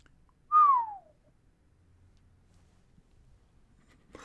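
One short, clear whistle sliding downward in pitch, followed by near silence.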